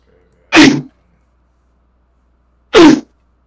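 Two separate sneezes, sharp and close, spaced about two seconds apart with quiet between them.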